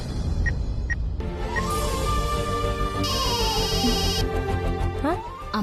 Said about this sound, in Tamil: அம்மா தான் கூப்பிடுறாங்க. அட்டெண்ட் பண்ணுக்கா.